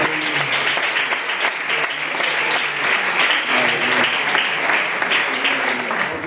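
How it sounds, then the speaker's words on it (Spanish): A church congregation claps steadily in a dense, sustained wave of applause filling a large room, with faint voices mixed underneath. "Vamos a dar un fuerte aplauso para la gloria del Señor."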